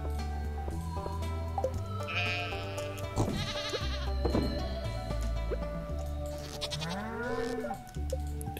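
Several sheep on a farm in the video game Stardew Valley bleat repeatedly and close by over a steady backdrop of game music, with no talking.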